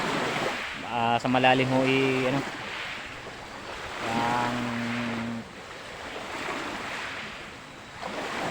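Surf and wind along a shallow, choppy sea shore before a dive, a steady broadband wash throughout with two stretches of a voice speaking over it.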